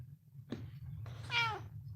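A cat meows once, a rising then falling harmonic cry, after a brief soft sound, over a steady low hum.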